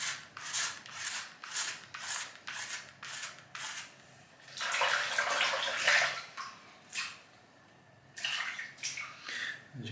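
A razor cartridge is rinsed under running water in gushing bursts, broken up by short dry gaps and a few quick raspy strokes, with no voices.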